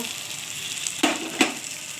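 Chicken with poppy seed stir-fried in a pan: a close, steady sizzle broken by two quick, sharp stirring scrapes about half a second apart.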